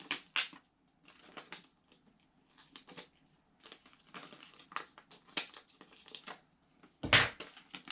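Foil iron-on vinyl being weeded and peeled off its backing, a run of close, dry crinkling and crackling bursts in irregular bursts with short quiet gaps, ending in one louder rip.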